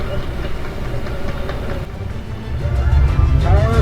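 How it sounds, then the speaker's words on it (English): An Apollo 11 Saturn V rocket lifts off with a loud, rumbling roar that builds and deepens toward the end, with a faint voice heard over it. "Liftoff on Apollo 11."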